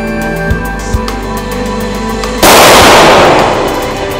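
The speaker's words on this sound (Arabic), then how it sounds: "اوكي حطينا 5 طلقات" Steady background hum with two faint ticks, then one sudden loud burst at target shooting practice that rings out into a broad noisy wash slowly fading.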